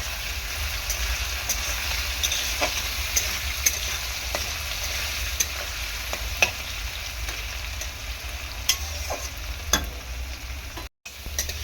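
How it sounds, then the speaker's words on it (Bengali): Potatoes with a little turmeric frying in a kadai for a Bengali fish-and-potato dish, a steady close sizzle with scattered sharp pops and crackles, no voices. "সামান্য একটুখানি হলুদ দিয়ে দেবো, দিয়ে আলুটাকে ভেজে নেবো ভালো করে।"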